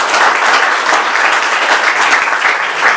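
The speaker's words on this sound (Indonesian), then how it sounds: "tepuk tangan untuk Tuhan Yesus." A congregation at a year-end church worship service breaks into sustained, dense applause, loud and even from start to finish.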